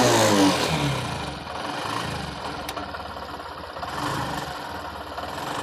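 A Honda CD 110 BS6 motorcycle that has sat unused for a long time and has a fuel pump fault revs up from idle. The engine note is loud and close, with rough, uneven acceleration that holds steady.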